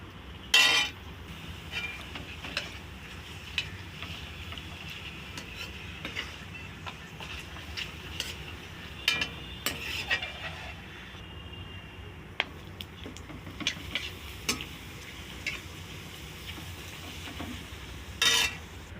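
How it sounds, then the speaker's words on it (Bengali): Papadum fries in oil in a wok with a low, steady bubbling sizzle, punctuated by frequent sharp crackles and bursts of spattering throughout. "এবার এক এক করে পাঁপড়গুলো ভেজে নেব।"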